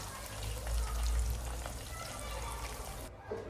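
Chicken frying in hot oil for Turkish-style crispy Tasty Crusty chicken, a steady dense sizzle close by that runs continuously, then cuts off sharply near the end.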